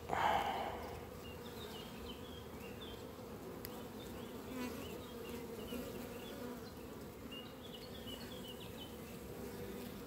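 A honeybee swarm at a hive hums in a steady, dense drone, with individual bees buzzing close by over the constant background, and no voices.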